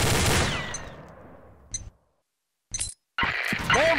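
Gunfire in the online shooter Combat Arms: a loud opening burst with a shattering, ringing tail that decays, followed by a short sharp report, another brief shot after a near-silent gap, then a dense rattle of renewed firing.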